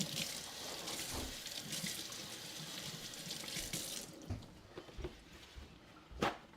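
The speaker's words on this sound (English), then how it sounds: "parsley while this is cooking. Give it a little rinse." Italian flat-leaf parsley is rinsed under a running kitchen tap: a steady hiss of water for about four seconds, then the flow stops, followed by a few soft drips and handling knocks.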